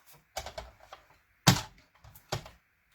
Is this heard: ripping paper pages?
yes